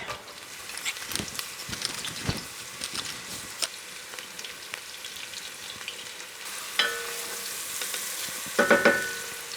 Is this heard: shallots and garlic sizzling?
yes